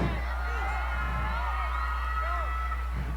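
A large festival concert crowd at Kaogma Festival 2024 cheers and whoops in a steady, dense wash of noise, with scattered shouts rising above the continuous roar throughout.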